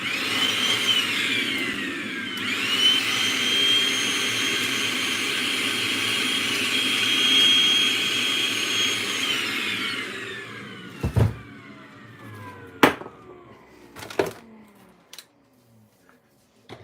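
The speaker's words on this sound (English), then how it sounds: "you can even get a vacuum cleaner" A vacuum cleaner runs close by with a steady, whining hum for about ten seconds, then cuts off, followed by a few sharp clicks and knocks in the quiet.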